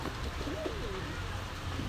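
Saharanpuri pigeon hen at a bustling high-flyer pigeon market, giving a brief soft coo over dense crowd noise.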